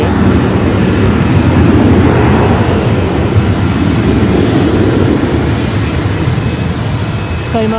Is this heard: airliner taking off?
yes